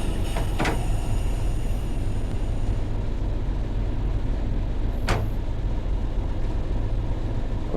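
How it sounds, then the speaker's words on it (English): A Class 31 diesel locomotive slipping its wheels in Train Sim World on the Tees Valley Line. A steady, loud rumble of engine and wheel noise runs throughout, with brief sharp hissing bursts near the start and around the five-second mark. "Oh no, it's just got wheel slip."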